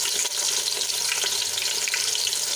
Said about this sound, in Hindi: प्याज को है वो अच्छी तरह से फ्राई कर देंगे